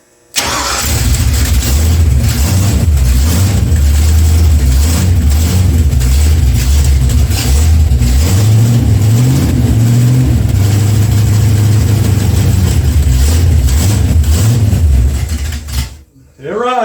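A freshly installed Ford Mustang 5.0 engine cranks and fires, then runs loud and close with repeated rising and falling revs before cutting out near the end.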